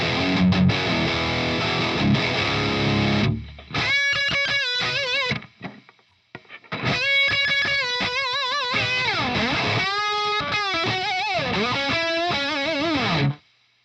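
Heavily distorted electric guitar played through a Synergy SYN-20IR amp with a Fortin Killer Kali preamp module: a thick sustained chord, a brief pause, then bent single-note lines and riffs ringing with saturated, harmonically rich gain.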